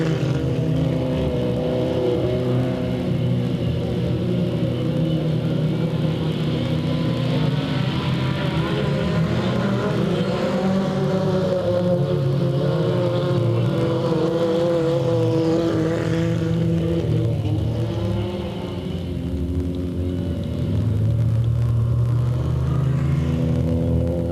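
Race cars at Delta Speedway in 1998 roar side by side down the straightaway, a steady loud engine rumble with revving that holds throughout and swells slightly near the end.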